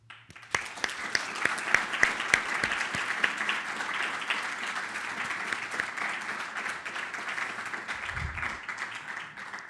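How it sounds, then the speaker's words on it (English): Summit audience giving a round of applause for a person named Pierre at a digital publishing event, sustained crowd clapping at moderate distance with a few sharper individual claps early, continuing evenly to the end. "I ask you to please give Pierre a round of applause."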